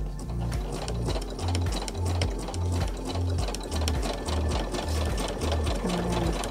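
A sewing machine stitches a PUL nappy cover in quick, regular bursts of mechanical chatter, with brief pauses as the fabric is fed around a curve. It sounds close and moderately loud, with no voices.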